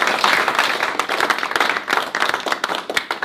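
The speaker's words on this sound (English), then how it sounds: "give yourselves a big, big round of applause" A business team applauds its monthly revenue results in a room, with close, loud clapping and distinct individual hand claps popping out of the uneven rhythm.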